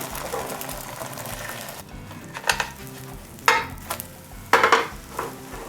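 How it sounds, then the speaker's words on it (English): A very thin egg omelette fries in a hot pan, giving a steady background sizzle with a few sharper bursts of scraping or pan clatter near the end. "I'm making very thin egg omelette, hot pan."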